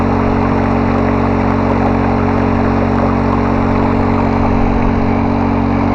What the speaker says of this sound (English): A little 4-cylinder, or 4-cycle motor instead of a 2-cycle, so it's not as noisy.